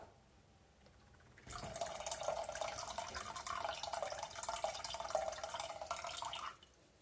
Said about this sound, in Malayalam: ഇതിലേക്ക് ഇനി നമുക്ക് ഗോതമ്പ് കുക്കാവാൻ ആവശ്യത്തിന് കുറച്ചും കൂടി വെള്ളം ചേർക്കാം